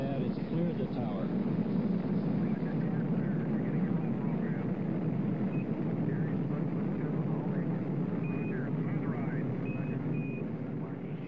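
A continuous deep rumbling roar of a Saturn rocket's engines at the Skylab crew launch, steady and loud throughout, with faint crowd or radio chatter mixed in underneath.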